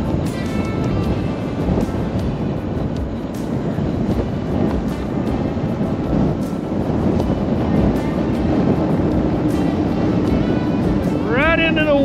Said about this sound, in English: Right into the wind. Hear my collar flapping.